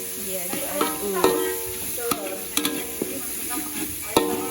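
A pan of chicken pieces being stirred while frying, with a soft sizzle under repeated scraping and clinking of the spatula against the pan, close up and fairly quiet.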